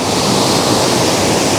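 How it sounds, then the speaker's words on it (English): Steady, loud roar of water rushing through a narrowboat canal lock as it fills, a dense continuous wash with no pauses and no voices. "So the water is coming from that side pound now"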